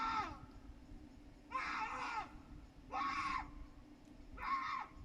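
A person screams in four separate high-pitched bursts over a low background hum, fairly faint and distant-sounding.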